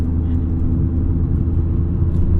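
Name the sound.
1992 BMW E36 325i engine while driving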